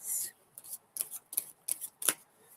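A tarot card deck is shuffled by hand in quick, crisp riffling bursts, about eight short papery flurries close to the mic, with no voices heard.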